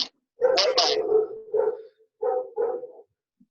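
A dog barks in the background of an online video call: several short, sharp barks and yips in uneven bursts with gaps of silence between them.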